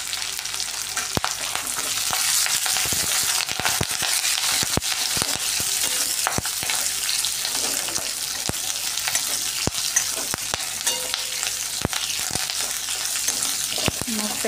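Onion and curry leaves fry in hot oil in a pan, giving a steady, dense sizzle with frequent stirring scrapes and clicks throughout, close and fairly loud.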